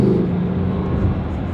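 A Lamborghini Huracan Tecnica cruising in sport mode automatic gives off a low, steady engine rumble heard from the cabin, brief and without talk.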